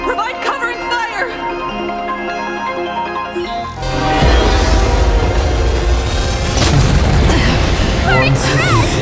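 Covering fire from the Express in Honkai: Star Rail, an instrumental passage suddenly breaking into a loud, dense run of booms and blasts that carries on under music to the end.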